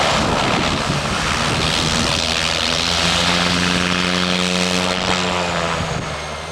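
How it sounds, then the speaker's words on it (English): A propeller plane's engine revs hard and loud close by as it taxis on loose shingle, a dense droning roar with a rising, steady harmonic whine throughout. "the pilot had to pour on the coal to get the plane moving around"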